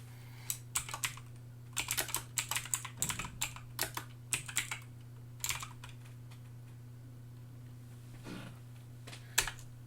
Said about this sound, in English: I'm going to type it up real fast.